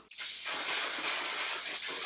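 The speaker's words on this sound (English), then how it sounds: "I'm gonna use the One Size setting spray to lock everything in." A steady, close aerosol spray of makeup setting spray hisses continuously for about two seconds after a brief click.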